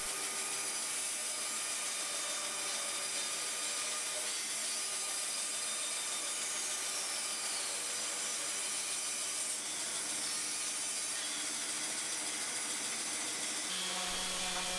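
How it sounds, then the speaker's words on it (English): Bandsaw cutting a taper into a wooden handle, a steady loud continuous whine and rasp running throughout with slight shifts in pitch as the blade works through the wood. "I can take it over to the bandsaw and cut it out"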